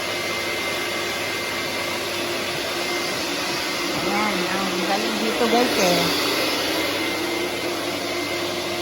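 An air conditioner being cleaned with a machine, heard as a loud, steady hiss and roar like a pressure washer or blower. Someone speaks over it partway through.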